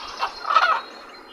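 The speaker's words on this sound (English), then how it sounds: "And ravens sound something like this." A raven gives a short, hoarse croaking call, a rough, throaty burst of about half a second, heard alone at moderate volume.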